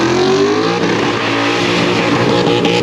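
A supercharged LSA V8 drift car running on E85 roars loud and close from inside the car, the engine climbing in pitch under hard revving with a rough, steady blare.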